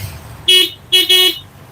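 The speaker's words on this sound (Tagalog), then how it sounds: "Ayan po yung busina niya." Benelli Bristol motorcycle horn sounding in two close, loud beeps, a short first toot and then a longer second one, over faint background noise.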